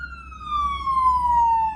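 An ambulance siren passes outside, a single loud wail that rises and then slides steadily downward in pitch over a low rumble of traffic.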